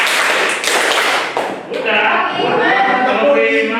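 Group of people clapping in a set pattern in a meeting room, a few sharp bursts of claps between spoken counting.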